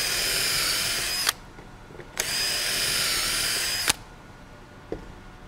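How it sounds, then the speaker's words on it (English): A power drill bores a pocket hole into a clamped board in a jig, three sustained whining bursts with abrupt stops between them and a small click near the end. "A nice system to actually clamp your board into the jig itself, and then you're ready to drill."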